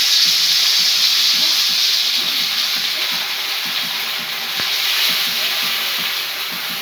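Cumin, coriander, ginger and dry chili paste fry in hot oil, giving a steady close hiss and sizzle that runs for the whole stretch, with one sharp tap about two-thirds through.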